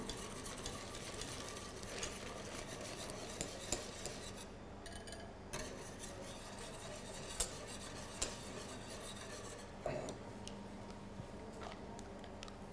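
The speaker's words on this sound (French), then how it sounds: "On va mettre le fouet dans la casserole et on va verser en même temps que l'on va remuer." A whisk stirs crème pâtissière in a saucepan on an induction hob, giving a steady swishing and scraping against the pan with occasional light metallic taps, close and fairly quiet.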